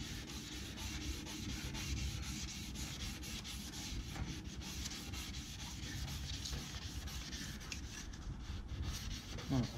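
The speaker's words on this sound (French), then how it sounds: "Il faut toujours que votre phare soit lubrifié au moment du ponçage." Steady wet sanding on a Mercedes C220 headlight lens, the abrasive paper rubbing back and forth in a continuous close, rasping scrub with no pauses or voices.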